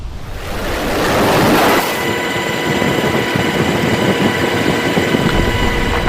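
A military helicopter flies over a tanker ship in the Gulf of Oman, its steady rotor and engine roar loud and continuous, with broadband wash swelling early and then holding level.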